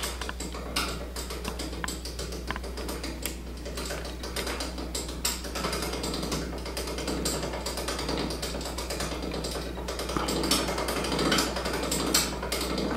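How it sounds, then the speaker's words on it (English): A draw machine pulls a 2017 Prime Centergy compound bow back to full draw, giving a steady stream of dense ratcheting, gear-like clicks over a constant low mechanical hum, with no talking. "start drawing the bow with the draw machine"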